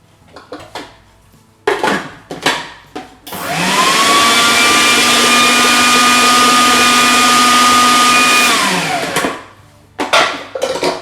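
Food processor blitzing kale and mint leaves for summer sauerkraut, a loud steady whirring roar that runs about six seconds before spinning down, with clinks and handling noises on either side.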